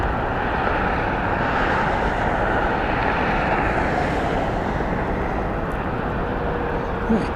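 Aircraft Colorado 1 taking off from Las Vegas Harry Reid International Airport gives a loud, constant engine roar with wind buffeting, a continuous rumble at close range that does not fade.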